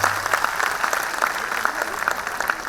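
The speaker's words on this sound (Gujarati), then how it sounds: "હવે બધાને વિનંતી છે, હવે તાળીઓ થઈ જાય." Audience at a school annual day function claps steadily in a continuous, moderately loud patter of many hands, with faint voices mixed in.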